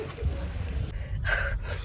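Someone breathes heavily and out of breath on a trip around Kodaikanal, with two loud, close gasping inhales standing out over a low rumbling background.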